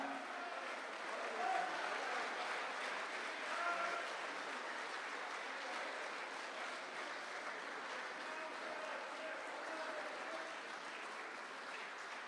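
An audience claps steadily at a mushaira poetry gathering in Dubai, a dense sustained wash of applause heard at a moderate distance without speech on top.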